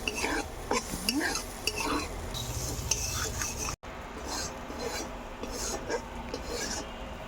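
Pennywort leaf paste stirred and lightly fried in a pan, with a steady soft sizzle broken by scraping, rubbing strokes of a utensil and a brief cut midway, close by.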